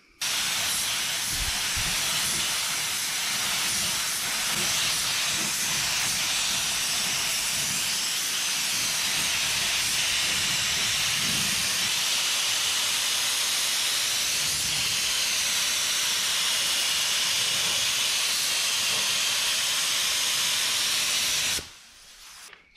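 A spray gun lays down the third and final paint coat on a 1959 Dodge Coronet body, a steady loud hiss running unbroken for about twenty-two seconds before cutting off at the end.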